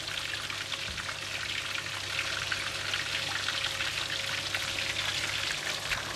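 Chili garlic oil and water sizzling and bubbling in a pan as it comes to a boil, a steady close hiss with a low hum underneath throughout.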